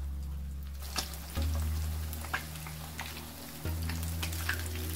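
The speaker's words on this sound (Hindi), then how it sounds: "इसको मैं 10 मिनट फ्राई करूंगी।" Fish frying in hot oil, a faint, continuous crackling sizzle with a low hum underneath and occasional louder pops.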